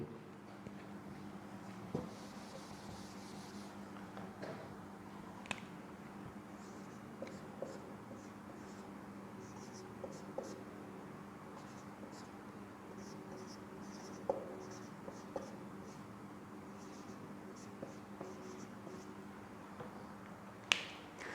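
Marker writing a short addition program on a whiteboard, heard as faint scattered squeaks and taps over a low steady room hum, with no talking.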